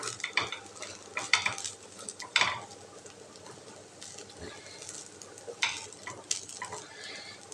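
Cooked rice being stirred and folded into carrot masala in a pan for carrot rice, with close scraping and clinking of a spoon against the pan in irregular bursts, and no talking.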